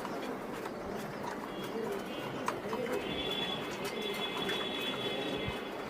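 Pigeons coo softly at a breeder's loft in Mirpur, Dhaka, with murmuring low calls scattered over a dense, busy background of ambient noise and rumble.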